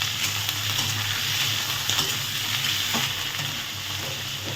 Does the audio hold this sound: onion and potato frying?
yes